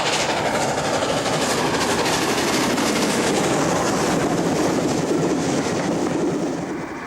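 An LNER streamliner steam train from the 1930s runs along rails with a dense, steady rushing roar and rapid rhythmic clatter of wheels, loud and continuous, fading slightly at the end.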